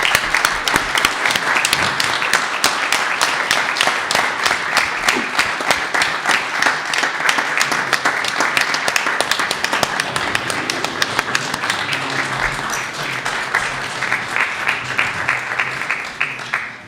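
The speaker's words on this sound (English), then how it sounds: "Let's give them another round of applause." Sustained audience applause at a Kent town board meeting honoring police officers, a dense steady patter of many hands clapping in a room for the whole stretch, fading slightly at the close.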